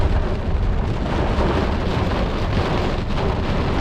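Heavy rain pours down in Singapore, a dense, steady roar of falling water close by that holds constant throughout with no voices.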